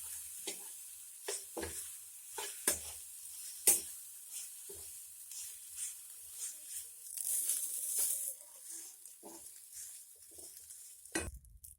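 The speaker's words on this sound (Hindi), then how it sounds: "सारा पास्ता डालने के बाद इसे अच्छे से मिक्स कर लेना है।" Pasta being stirred in a pan while cooking makes soft sizzling and a series of separate scraping and clattering strokes, quiet and close, with no talking.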